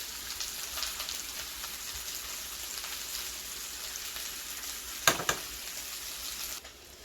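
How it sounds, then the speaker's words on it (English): Ground meat for meatballs sizzles in a pan with a constant, even crackle, like light rain, close and moderately loud, broken once by a brief sharp clatter of a utensil. "while I got all the meat cooking"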